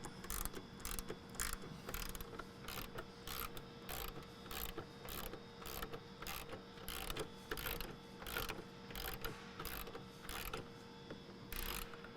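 Screws are started into a snorkel bracket on a Mercedes Sprinter diesel van with a steadily clicking ratchet-like tool, a fast, even series of faint mechanical ticks over a low hum.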